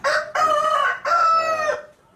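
A Thai fighting rooster crows nearby, loud and clear, in three strained bursts that fade out at the end.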